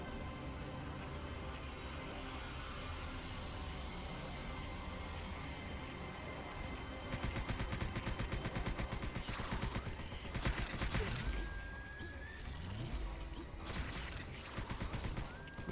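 Automatic weapon fire in the video game Subterrain, a fast, continuous mechanical rattle that starts partway through and runs on over a steady low drone, with a few sweeping tones near the end.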